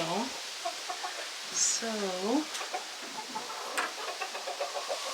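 A hen clucks in short, rising bursts close by beside a fan, with a brief word spoken over a steady background hum.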